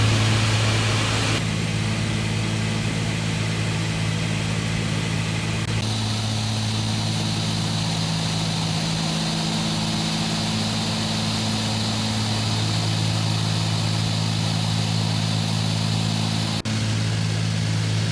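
Twin engines of a Cessna 310 drone steadily in cruise flight over the Colorado mountains, a loud, continuous cabin hum with no talk.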